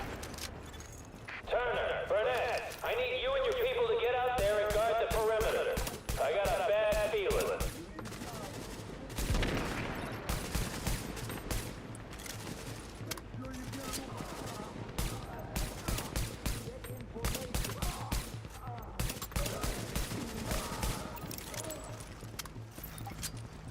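Bursts of RPK machine gun fire in The Division, loud and rapid, with a sustained stretch early on followed by repeated choppy volleys, a voice talking over parts of it.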